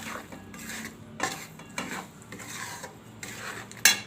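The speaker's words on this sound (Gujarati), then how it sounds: "આપણે બધું મિક્સ કરી લેવું." A thick adadiya pak mixture with mawa is stirred in a pan, with rhythmic scraping and rubbing strokes and a few sharper metallic clinks, close and alone.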